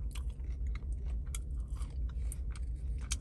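Someone chews crunchy salted fries close to the mic, a steady run of crisp bites and crunches over a low background rumble.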